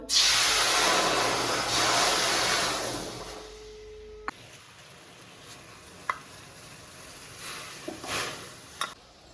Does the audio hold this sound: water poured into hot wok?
yes